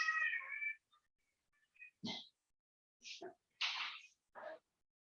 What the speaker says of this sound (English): Yes, it's the cat.